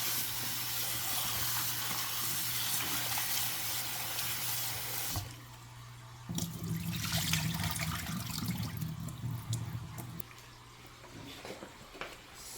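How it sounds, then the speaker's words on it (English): Cut potatoes are washed under a running kitchen tap, a steady hiss of water that shifts to a fuller splashing as the potatoes go under the stream, with no talking. "I'm going to wash my potatoes now."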